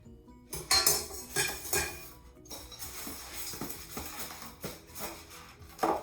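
Metal clinks and clattering as a KitchenAid stand mixer paddle attachment is pulled out of its packaging, with a series of close, irregular knocks and rattles of metal parts and no talking.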